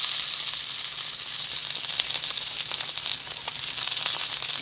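Skin crisping in a hot pan gives a bright, continuous sizzle and hiss with small crackling pops, close and loud, steady for the whole stretch with no voices.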